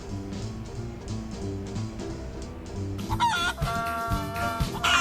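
Chickens cluck in the Fallout video game, and after a few seconds a rooster crows loudly over the steady, close clucking of the flock.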